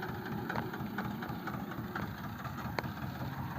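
A tractor engine chugs steadily at a low rumble, running continuously throughout with a faint knocking rhythm.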